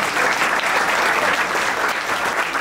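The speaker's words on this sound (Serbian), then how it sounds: "aplauz za sve darodavce i vaš dragi gosti" Applause for the prize donors at a local business owners' evening event in Čukarica, a dense, steady roar of many hands clapping, loud and continuous throughout.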